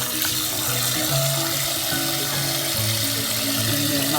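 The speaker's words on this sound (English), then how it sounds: "So let's fill this up. Just make sure the water is covering all the fish." Tap water pours steadily into a pot to cover soaking codfish in a home kitchen, a continuous close, loud rushing splash with faint clanks of the pot underneath.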